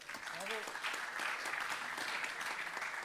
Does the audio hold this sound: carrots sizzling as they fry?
no